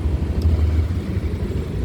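A steady low engine rumble idles close by, a continuous throaty drone with no other sounds over it.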